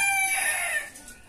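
A nearby rooster crows once, a loud harmonic call that fades away in about a second.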